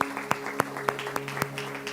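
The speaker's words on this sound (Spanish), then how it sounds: "Dale un fuerte aplauso al Rey de Reyes." Church congregation clapping for the King of Kings during a Spanish-language worship service, a steady rhythmic beat of claps over a sustained musical drone, moderately loud and continuing throughout.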